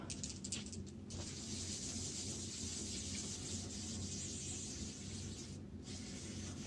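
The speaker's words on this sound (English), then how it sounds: "Give my can a good old shake. This is my degreaser." An aerosol can of degreaser sprays in a long, steady hiss onto a bicycle frame during a wash, with a couple of brief pauses, heard close up.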